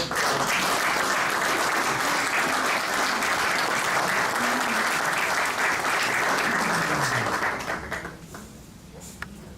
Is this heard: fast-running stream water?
no